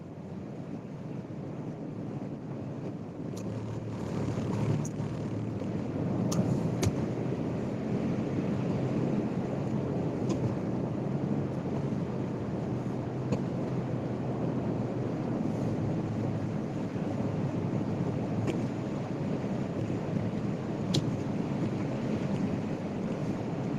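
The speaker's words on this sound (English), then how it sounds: "this wind is brutal" Strong wind buffeting the microphone outdoors, a loud continuous low rumbling roar with a few faint clicks, lasting throughout without speech.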